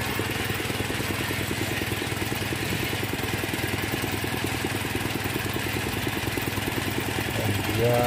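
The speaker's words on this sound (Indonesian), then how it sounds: "Inilah alat pengeboran tersebut" Engine-driven well drilling rig with a large motor running at a steady idle-like chug, continuous and fairly loud with a regular rapid pulse, unchanging throughout.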